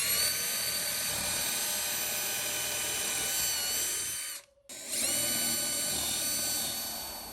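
A power drill whines steadily while pre-drilling holes to mount a French cleat on a wall over the studs, loud and continuous, with a brief stop partway through before starting again.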